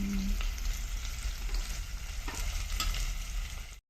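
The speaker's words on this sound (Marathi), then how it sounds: "कांदा निम्मा भाजलाय" Onions sizzle steadily in a hot pan while cooking for chicken pulao, a close, continuous frying hiss with some low rumble, cutting off abruptly at the end.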